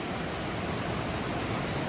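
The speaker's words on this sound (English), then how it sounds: "Look at the volume pumping through this creek." A creek swollen with glacial meltwater off Mount Rainier rushes past close by, a loud, dense, unbroken roar of churning water.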